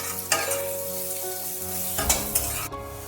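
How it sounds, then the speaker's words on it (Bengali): Potatoes fry in hot oil with a constant close sizzle, and a few stirring scrapes and knocks break through it. "আলুগুলো তেলের মধ্যে একটু নাড়বো"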